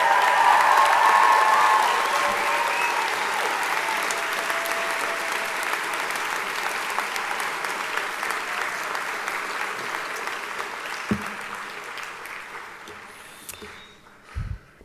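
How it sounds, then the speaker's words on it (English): Audience applause fills a graduation ceremony hall at a journalism school, loud and sustained from the start and slowly thinning out, with a few scattered cheers early on and a brief louder burst near the end. "You may cheer for all of them now."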